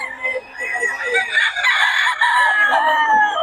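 Chickens and roosters at a seller's farm in Bocaue crow and cluck loudly and continuously, several birds overlapping close by, with faint human voices underneath.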